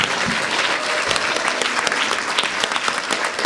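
An audience applauds panelists at a conference session, a dense, loud, continuous wash of clapping from many hands that fills the whole moment without pause.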